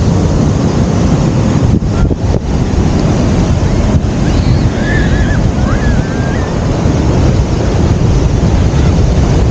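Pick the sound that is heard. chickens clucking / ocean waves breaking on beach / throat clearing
ocean waves breaking on beach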